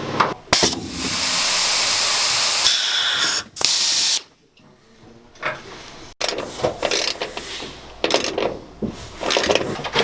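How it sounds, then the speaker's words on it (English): Rust preventative sprayed from an aerosol can onto drilled metal in a high-roof Transit van during a fuse block install, a loud steady hiss lasting several seconds, then short bursts of spray and rattling handling noises. "we're going to come back through and get some rust preventative on here"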